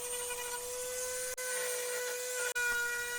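Dremel rotary tool carving a 1x8 wooden board for a Christmas snowman project, a steady high whine held close and continuous, broken by two brief dropouts.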